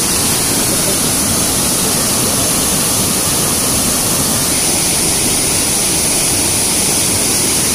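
A loud, constant roar of rushing water pours without pause, dense and unbroken, as water is released through a manually operated lock on the Augustów Canal near Grodno, Belarus.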